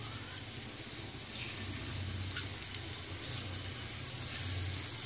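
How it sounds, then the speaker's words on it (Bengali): Drumstick flower (sajne) fritters sizzle steadily in hot oil, a soft continuous crackle and hiss with a faint low hum underneath, no voices. "আমি আর কতগুলো বড়া ছেড়ে দিচ্ছি তেলের মধ্যে"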